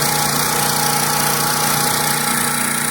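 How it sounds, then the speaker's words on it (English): Small gasoline engine on a Stihl Dirt Boss 2700 psi pressure washer, running steadily after a choked start, a continuous close, loud drone with a buzzing hum and no pauses throughout. "So now your pressure washer's running."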